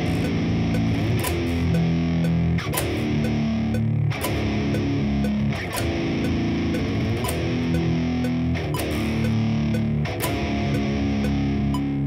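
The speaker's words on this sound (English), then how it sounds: "The guitar sound you're hearing right now is not the one I'm recording." An electric guitar plays a heavy, distorted doom riff before reamping, with slow repeated chord hits landing roughly every one and a half seconds over sustained low-end drone, loud and up front with no talking.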